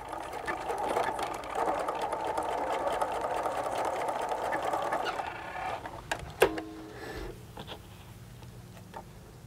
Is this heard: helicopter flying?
no